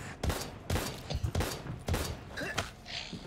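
Pistol gunfire in the video game Daymare: 1998, several sharp loud shots spaced irregularly over a few seconds, with mechanical clicks and thuds between them.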